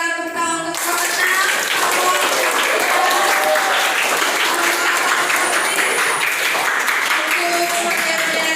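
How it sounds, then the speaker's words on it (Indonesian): An audience applauding the participants of a student council election debate, dense clapping that starts just after a brief musical tone and holds steady for several seconds, with faint background tones beneath it. "Kita berikan tepuk tangan untuk peserta"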